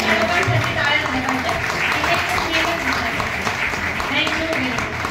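Applause from a large audience at a packed company product event, a steady dense patter of clapping that fills the whole stretch, with speech mixed in.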